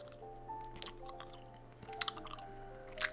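Blue raspberry Hi-Chew candy being chewed close up, with soft sticky squishing and a few sharper smacking bursts over a quiet room hum, and no talking.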